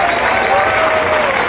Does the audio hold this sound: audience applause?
yes